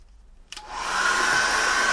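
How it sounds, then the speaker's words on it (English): A hairdryer switches on about halfway through and blows steadily and loudly, drying acrylic paint on an underwater seascape canvas, with no voices. "I'm going to dry that with a hairdryer."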